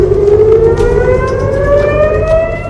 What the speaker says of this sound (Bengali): এর পরপরই ইসরায়েল জুড়ে বাজছে সাইরেন